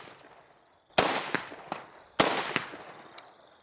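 IWI Tavor rifle fitted with a Michalik muzzle brake firing outdoors, two sharp loud shots about a second apart, each followed by a ringing echo and smaller reports.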